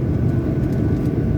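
Airliner turning on the runway end at Innsbruck Airport before takeoff, a loud, steady low engine rumble filling the short stretch without a break, no voices.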